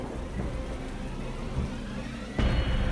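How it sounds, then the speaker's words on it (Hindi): Heavy rain pours steadily in a dense forest during a thunderstorm, a constant close wash of drops that swells louder near the end, with no voices. "तेज बारिश फिर से शुरू हो गई थी।"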